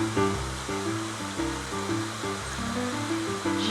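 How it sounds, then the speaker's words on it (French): Small waterfall cascades spilling across a mountain hiking trail, a continuous rushing splash of water close by with no talk over it. "ces cascades qui coupent le sentier, il faut bien les passer"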